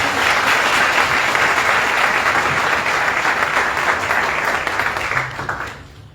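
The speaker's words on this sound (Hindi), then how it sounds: "आए हम खुदा के खादम का और खुदा के कलाम का जोरदार तालियों से स्वागत करते हैं।" A church audience in Dubai breaks into loud, sustained applause to welcome a preacher, dense clapping from many hands that holds steady and then fades out near the end.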